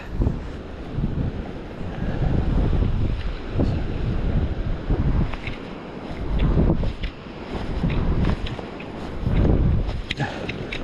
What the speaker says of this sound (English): This wind is making it a bit difficult to get some distance on these casts.